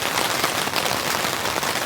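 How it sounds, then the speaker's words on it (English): Heavy rain pours steadily over a campsite in calm, windless conditions, a dense continuous hiss of drops drumming on surfaces close by, unbroken through the whole stretch with no voices. "The rain has fully set in now, which is nice."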